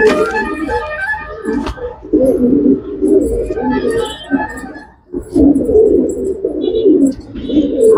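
Kept pigeons, including a sleek Beauty Homer cross, coo loudly and continuously in close overlapping rolls. Brief pauses break the cooing, and faint higher chirps come from other birds in the flock.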